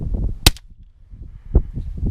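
An FN Five-seveN pistol fires Fiocchi 5.7x28mm rounds, and one sharp, loud shot cracks out near the start. Low rumbling handling noise follows, then a softer thud later on.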